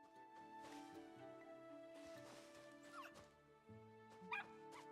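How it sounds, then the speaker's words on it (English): Dog barking in the video game Luma Island: a few quiet, high yips and whimpery barks scattered over soft background game music, faint and somewhat distant. "I hear you barking, bud,"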